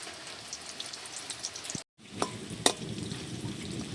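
Quiet, steady sizzling of chicken pakoras frying in oil, with a brief dropout and a few soft clinks and stirring scrapes of a utensil.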